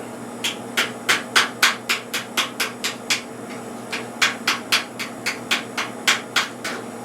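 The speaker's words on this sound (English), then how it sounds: "I went down and got my body dolly out and a little body hammer." A small body hammer taps a Piper Super Cub wing's sheet metal leading edge over a dolly in quick, even bursts of sharp metallic knocks, a pause midway, then another rapid run, close and clear.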